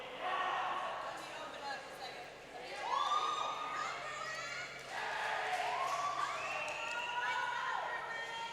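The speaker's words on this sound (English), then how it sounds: "The crowd's pumping up their swimmers." A crowd at a swim meet cheers on swimmers with rising whoops and shouts in several waves, children's and adults' voices mixed over a busy indoor pool hall.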